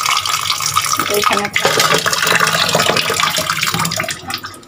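Tap water runs steadily into a kitchen sink while lentils are set to soak for cooking, a close, continuous splashing flow with a brief dip partway, as someone speaks a word over it.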